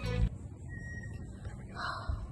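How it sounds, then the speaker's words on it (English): A crow-like bird caws outside a house that is being staged, a faint, distant call rising briefly from a low, steady background hum. "There's a bird."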